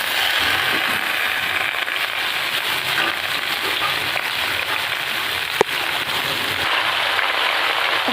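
Pumpkin greens go into a hot pan of potatoes already fried red, giving a steady, even sizzle throughout, with one sharp knock about two-thirds of the way in.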